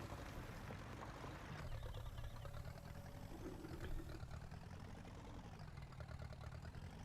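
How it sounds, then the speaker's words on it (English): A tractor engine runs steadily while reversing in Farming Simulator 19, a dense, loud mechanical drone with a constant low rumble and clatter throughout and no speech. "This tractor's so slow when you reverse."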